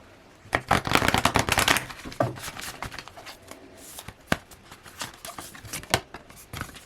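Tarot cards being shuffled and pulled from the deck: a quick burst of riffling flutters followed by scattered soft snaps and slides of single cards, close and quiet with no talk.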